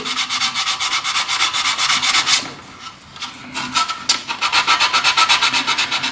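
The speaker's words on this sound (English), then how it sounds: "before I hit it with the wet and dry. Rub it all down so it's level" Wet and dry sandpaper rubs down body filler on a Dalek model in quick rhythmic back-and-forth strokes, close and loud, pausing briefly midway before resuming.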